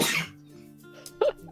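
A single loud sneeze bursts out at the start, followed by quiet low hum and a couple of faint noises in a game-playing setting.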